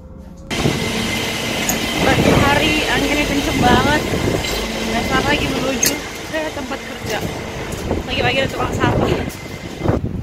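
Strong gusty wind blowing outdoors in Germany on an early morning walk to work, loud steady rumbling buffets across the microphone throughout, with a person talking over it.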